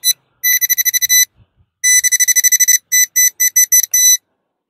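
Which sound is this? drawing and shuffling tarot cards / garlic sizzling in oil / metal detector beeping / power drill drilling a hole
metal detector beeping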